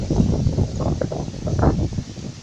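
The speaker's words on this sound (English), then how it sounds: "Oh man, nice and windy out here." Wind blows outdoors at an open building site, with a gusty low rumble buffeting close to the microphone and rising and falling in strength.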